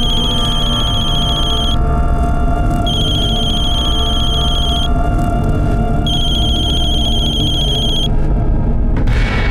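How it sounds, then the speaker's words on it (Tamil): A telephone rings over and over in a domestic drama scene, each bright electronic ring separated by short gaps, and nobody answers it. A constant low rumble sits underneath, and no one speaks. "த்ரிஷா, நீ எதுக்காக ஃபோன் எடுக்க மாட்டேங்கிற?"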